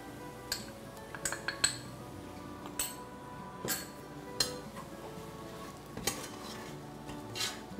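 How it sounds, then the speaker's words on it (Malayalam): Coriander and chili powder sautéed in a pan for a Syrian Christian Dukrana dish, with a steady low sizzle and a series of sharp clinks and scrapes from a spoon stirring against the metal pan. "ആദ്യം മല്ലിപ്പൊടി ഇട്ട് കൊടുത്ത് ഒന്ന് വഴറ്റിയതിന് ശേഷം നമുക്ക് ബാക്കി പൊടികൾ ചേർക്കാം"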